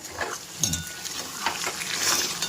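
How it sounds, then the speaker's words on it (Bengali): Aloo dum, a potato curry, sautés in oil in a pan, with close sizzling and short scraping stirs that come and go. "এই যে আলুর দম বসিয়ে দিয়েছি, আলুর দম কষাতে বসিয়েছি।"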